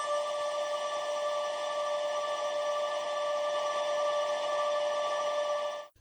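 A synth part plays through a freeze reverb effect as a sustained, unchanging harmonic drone that holds steady and loud for about six seconds before cutting off abruptly. No voice is heard.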